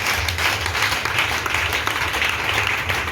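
A church congregation claps and cheers in praise, a steady wash of applause and acclamation heard at moderate distance and continuing throughout with no pause.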